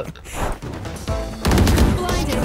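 Gunfire in Valorant, a competitive tactical shooter round, with bursts of rapid shots that intensify into a loud sustained volley near the end.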